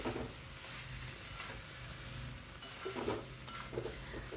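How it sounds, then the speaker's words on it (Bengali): A fish head fries with salt and chilli in a covered pan, giving a steady soft sizzle with faint stirring and small clinks, close and continuous. "এইভাবে ঢাকা দিয়ে কষবো, তাতে মাছের মধ্যে নুন ঝালটা আরও ভালো করে ঢুকবে।"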